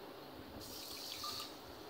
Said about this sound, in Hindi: अब ये मैंने एक कप पानी लिया है,